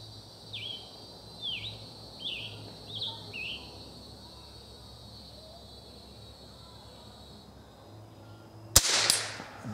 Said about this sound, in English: after shooting the Smith & Wesson Model 17 at 50 yards with that little cartridge